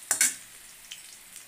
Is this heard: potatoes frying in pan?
yes